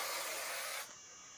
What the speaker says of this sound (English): I'm gonna spray the shit on this piece of wood